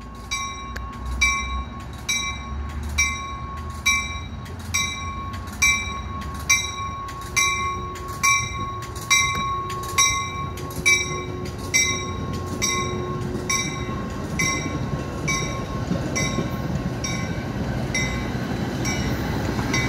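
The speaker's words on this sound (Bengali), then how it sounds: "ট্রেনটি রওনা দিল।" A Metra commuter train pulling out of Prospect Heights station near Chicago, wheels clicking over rail joints in a steady rhythm that gradually speeds up and blurs into a continuous rumble, with no talking.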